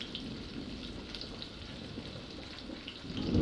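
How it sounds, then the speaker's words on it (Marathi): Chopped onion and curry leaves fry in a pan for a Konkani prawn rice dish, giving a steady, fairly soft crackling sizzle that swells slightly louder near the end, with no talking. "एक चिरलेला कांदा घाला पाच सहा कढीपत्त्याची पाने घाला"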